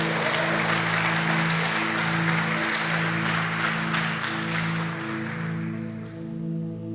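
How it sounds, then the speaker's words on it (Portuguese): A church congregation applauds, dense sustained clapping over a held musical chord from keyboard or organ, with the clapping thinning toward the end. "Diga aleluia e aplauda Ele mais uma vez"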